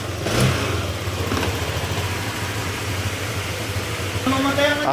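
A repaired motorcycle engine idles steadily with a low, even rumble, and a brief muffled voice comes in near the end.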